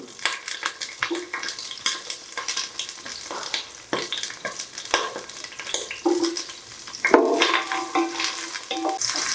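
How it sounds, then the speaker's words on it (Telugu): Lemons frying in a pan give a busy, loud sizzle with frequent stirring scrapes and light clinks of utensils on the pan, close up and without speech. "దాని తర్వాత నిమ్మకాయలు కూడా ఫ్రై చేసుకోవచ్చు"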